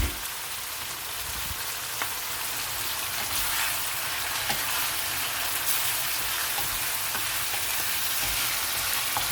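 Boneless chicken, a kilo of it, fries steadily in a pan for a Kashmiri white chicken handi, a loud continuous hiss and crackle like heavy rain with no break.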